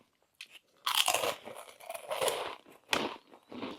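Close, loud crunching of crispy Thai rice crackers, with several sharp bites followed by chewing crackles in an irregular rhythm and no talking.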